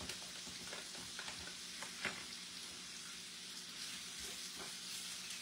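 Smoked sausage, cabbage and bacon frying in a pan on a home stove, giving a steady, soft crackling sizzle throughout with a few faint clicks of a utensil.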